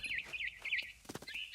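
Barn swallow in a video game, chirping in quick twittering bursts, faint and alone.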